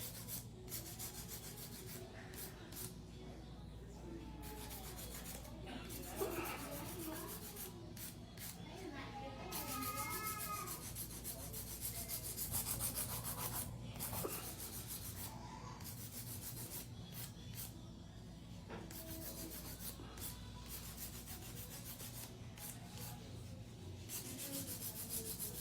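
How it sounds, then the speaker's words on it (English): A hand file working over acrylic nails in a circular motion, a soft continuous scratchy rubbing that persists quietly with a voice talking over it. "It's a very efficient way of filing."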